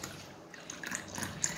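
Water trickles and splashes briefly into a glass, topping up ajwain water to dilute it; a soft, close, short pour with faint dripping.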